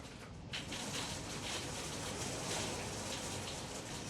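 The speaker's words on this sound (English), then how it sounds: "it downpouring outside right now" Heavy rain pours down outdoors, a steady, dense hiss of drops on surfaces that holds at an even level throughout, fairly faint and with no voices over it.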